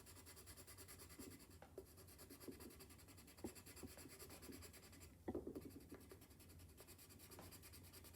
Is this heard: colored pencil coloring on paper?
yes